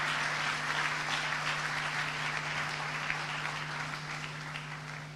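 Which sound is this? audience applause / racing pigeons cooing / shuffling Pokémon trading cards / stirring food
audience applause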